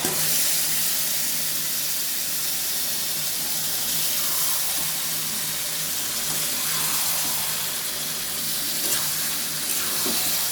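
Marinated chicken sizzles in a pan of frying onions with a continuous dense hiss and a few faint stirring knocks, and no talk.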